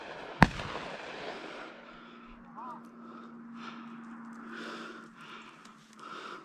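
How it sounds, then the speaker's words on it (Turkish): A single sharp gunshot-like bang from a shotgun during a pheasant hunt, loud and close at the start, followed by outdoor rustling and distant sounds. "Nasıl patlama acayip."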